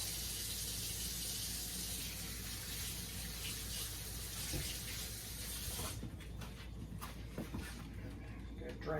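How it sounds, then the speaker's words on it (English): Tap water runs steadily into a kitchen sink as a paring knife is rinsed under it, then cuts off, leaving drips and small handling clatter, with a person talking throughout. "Let me wash my paring knife really fast."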